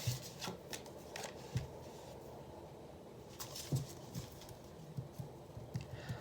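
Tarot cards are shuffled and drawn, producing soft, close riffling and light slapping taps at irregular intervals against a quiet room background.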